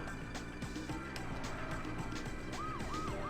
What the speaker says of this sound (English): The horn on this is to sound the siren.